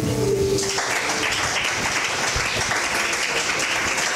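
A church congregation bursts into sustained applause acclaiming Jesus, steady dense clapping that fills the space throughout, with a brief sung or spoken tone fading out at the start.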